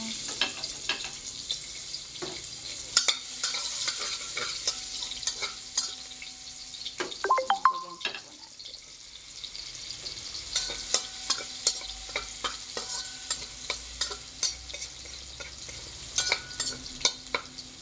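Garlic frying in hot cooking oil in a pan, a steady sizzle with intermittent stirring scrapes and clinks throughout, heard up close with no voices.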